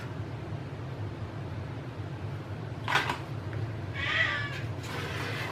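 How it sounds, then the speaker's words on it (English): Pet cat giving a couple of short meows, one around the middle and a longer one later, fairly faint over a low steady hum and room noise, no voices. "That's my kitty cat."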